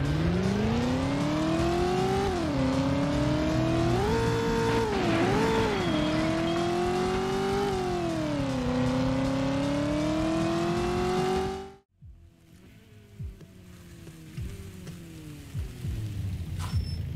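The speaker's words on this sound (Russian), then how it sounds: "Объемный жирный звук, рева двигателя." Engine roar from a car in the PS1 racing game Driver, a loud continuous rumble rising and falling in pitch with revs for about twelve seconds, then cutting abruptly to quieter, rougher engine and road noise.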